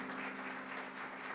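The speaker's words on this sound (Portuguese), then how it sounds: "Mais uma salva de palmas para Jesus." A church congregation at a Baptist service applauds in a continuous, even wash of clapping, moderately faint and sustained throughout the short moment.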